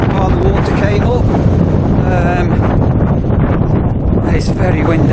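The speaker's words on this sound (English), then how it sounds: "It's very windy" Strong wind at a tidal marsh on the coast by Leverton Marsh, roaring and buffeting loudly against the microphone, with faint voices partly masked beneath the gusts.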